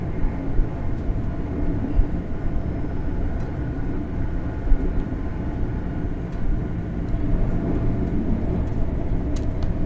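A GWR Class 800/3 bi-mode train in a Train Simulator game runs steadily at speed on the Penzance to London Paddington route, giving a continuous low rumble and rolling drone with no talk.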